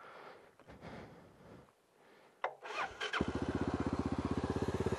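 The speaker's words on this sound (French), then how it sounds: "même en le mettant sur off, bah, la moto, elle continue à tourner, elle s'arrête pas." An adventure motorcycle on a two-day trail ride fires up after faint rustling and a clunk, then idles with a steady loud rhythmic thumping, still running with its fuel tap turned off.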